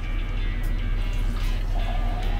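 Halyard Brewing Volcano Juice ginger beer, an alcoholic ginger soda, pouring into a glass with a steady close liquid gurgle and fizz for a couple of seconds.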